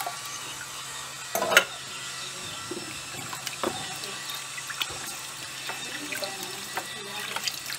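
Tap water runs into a sink as beans are given a final rinse, a steady splashing stream with brief louder gushes and clinks, no voices heard.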